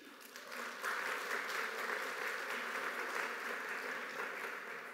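Applause for church members during a church service, a warm crowd clapping that swells after a brief softer start and holds steady, fairly distant in a large room.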